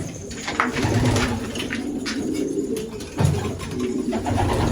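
Pigeons in a coop coo continuously, close and fairly loud, as overlapping low throaty calls with a faint rustle of wings and movement around them.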